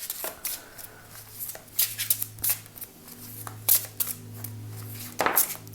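A deck of oracle cards, Les chemins de l'éveil, being shuffled by hand in soft, irregular bursts of riffling and sliding, close and quiet against a low steady hum.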